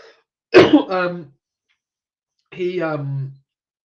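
A single short cough, close and fairly loud, followed after a pause by a brief spoken phrase.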